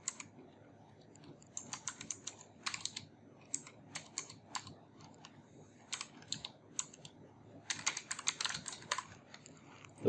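Code being typed on a computer keyboard, with bursts of quick, close key clicks separated by short pauses over a low background hum.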